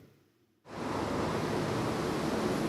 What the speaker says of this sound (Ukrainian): Єдиний в Україні штучний водоспад.